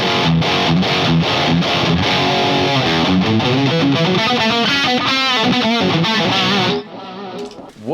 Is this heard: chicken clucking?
no